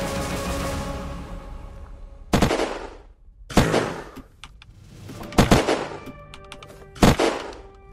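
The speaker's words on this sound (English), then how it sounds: "I just heard shooting." Gunfire in the survival game Unturned: a handful of sharp, loud shots and short bursts ring out at irregular intervals against a low ambient hum, each cracking cleanly with a brief decaying tail.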